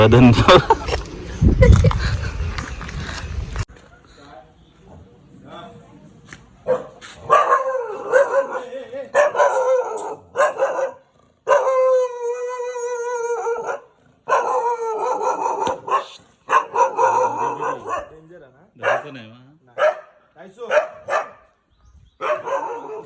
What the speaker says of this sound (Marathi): कुत्र्यापासून सावधान आमचं कुत्रं